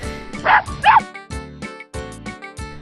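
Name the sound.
pet dog barking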